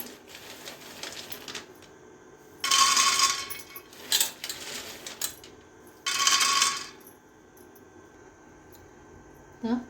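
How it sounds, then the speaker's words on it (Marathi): Peanuts dry-roasting in a kadhai on a gas stove for peanut laddoos, heard as a few loud bursts of rattling, clattering stirring between quieter stretches of faint scraping, close to the listener. "कढईमध्ये शेंगदाणे भाजून घ्यायचे आहेत आपल्याला"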